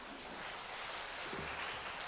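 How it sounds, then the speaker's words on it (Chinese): A church congregation applauds to welcome a pastor during a Sunday worship service, a faint, even wash of clapping that stays steady throughout. "我们用热烈的掌声来欢迎他。"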